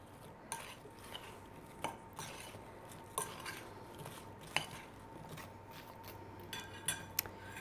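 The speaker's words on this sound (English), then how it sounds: "Now mix all of this up really well" Crostata crust ingredients and salt are stirred together in a bowl, giving repeated light clinks and scrapes of a utensil against the bowl at an irregular, steady pace, close by and fairly quiet.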